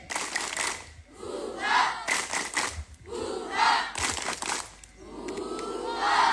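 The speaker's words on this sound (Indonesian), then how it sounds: "Tepuk semangat!" Schoolchildren in grades 7 to 9 perform a rhythmic spirit clap and cheer at a school exercise session, with bursts of group clapping alternating with loud shouted chants from the crowd.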